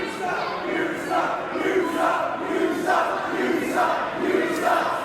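A wrestling arena crowd at a Hustle Malone versus Truman Roswell match roars and chants steadily, with rhythmic waves of shouting and jeering swelling every second or so, loud and continuous.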